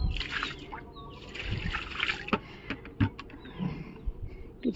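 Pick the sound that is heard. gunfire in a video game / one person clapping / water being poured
water being poured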